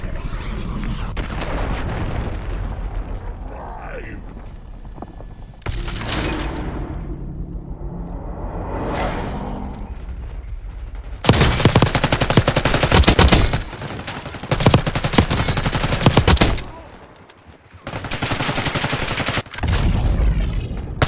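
Rapid gunfire and bursts in the video game Babylon (beta), loud bursts of automatic fire with booms, broken by brief pauses and a sudden drop near the end.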